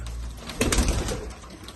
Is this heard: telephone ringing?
no